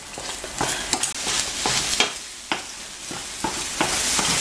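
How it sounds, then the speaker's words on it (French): Scrambled eggs stirred into ojja sauce in a frying pan for a Tunisian Jewish dish, a spoon scraping in quick repeated strokes over a close, bright sizzle. "Et on continue de remuer pour bien mélanger le tout."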